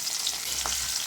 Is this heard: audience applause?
no